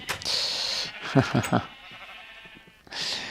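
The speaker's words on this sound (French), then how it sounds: "je vais retondre ce mouton dissident qui a brouté devant moi" Sheep bleating while being sheared in a Minecraft-style game: a short wavering bleat at close range, with game sounds before and after and brief talk beneath.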